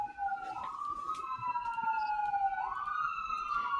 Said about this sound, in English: I think it's the ambulance.